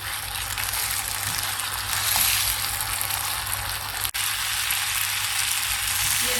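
Chicken Manchurian sizzles on a high flame as added water cooks off, a loud, dense crackling hiss that runs throughout with one brief sharp knock midway.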